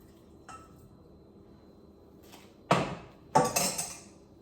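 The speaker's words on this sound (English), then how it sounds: "so I just poured the water so the water is over the carrots." Water saved from boiling carrots is poured over the cooked carrots in a kitchen, heard as two short splashing bursts after a few faint clinks, fairly close.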